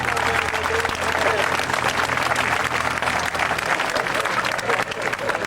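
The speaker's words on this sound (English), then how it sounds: "Give the Show Me Chevy a round of applause, ladies and gentlemen." A crowd applauds for the Show Me Chevy, loud continuous clapping and cheering that holds steady for several seconds with a low hum underneath.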